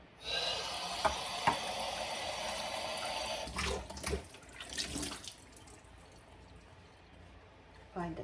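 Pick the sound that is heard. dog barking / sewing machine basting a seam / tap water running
tap water running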